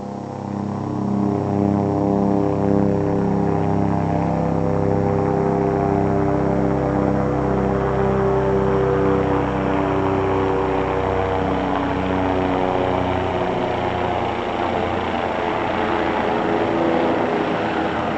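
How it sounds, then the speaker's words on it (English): Low-flying propeller airplane passing overhead about 120 feet up, a steady loud droning engine with layered harmonic tones that holds throughout and slowly shifts in pitch as it flies over, with no talking. "when you guys see an airplane that I get and it goes like this flying over"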